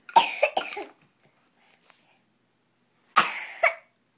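A baby coughs close by in two bursts: a quick double cough at the start, then another cough after a short quiet pause.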